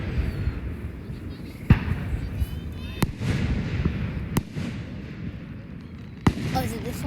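Fireworks go off at a 2024 display, with several sharp, distant bangs in a rough sequence over a constant crowd murmur, each burst standing out as a crisp crack.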